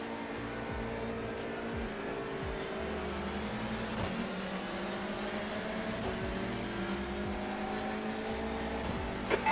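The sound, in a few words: touring car engines at race start in iRacing video game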